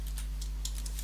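Code being typed on a computer keyboard, a quick run of light clicking keystrokes over a low steady electrical hum, close and without talking.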